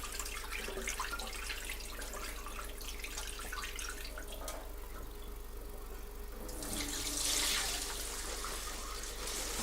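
Water is poured off sorghum grain steeping at 42% moisture, making a steady close rush and splash that swells louder toward the end, with no talking.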